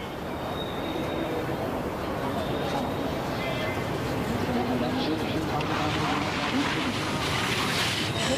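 Strong gusting wind roars steadily across an outdoor biathlon shooting range in Östersund during a women's pursuit race, a dense, continuous rush that fills the whole stretch.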